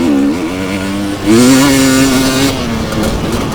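A race car engine in the TORCS racing game held under throttle, a loud buzzing drone that dips briefly and then rises in pitch as it revs, constant and close with no voices.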